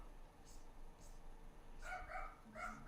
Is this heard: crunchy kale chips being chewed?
no